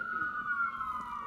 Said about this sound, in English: So here come the sirens.